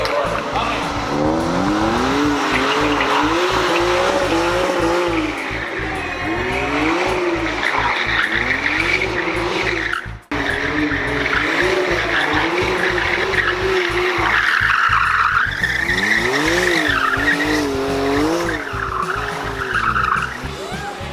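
A borrowed car drifts with its tyres squealing and skidding, the engine revving in rising and falling waves throughout, loud and continuous, with a brief dropout midway.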